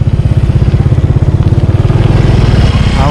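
A motorcycle engine runs close by in a steady, loud, throbbing rhythm that holds for about three seconds with no pause.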